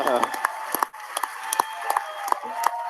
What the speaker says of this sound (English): You guys can cheer.